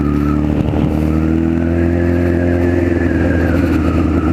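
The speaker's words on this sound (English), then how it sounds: "Bloody nice to be on a bike again." A Honda Fireblade motorcycle, being test-ridden after a garage build, drones loudly and steadily under way, its engine note rising gradually, with heavy wind rush over the rider's microphone.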